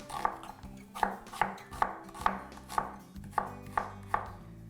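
A knife cuts repeatedly on a board, about ten evenly spaced crisp chops in quick rhythm, close and moderately loud with nothing else heard.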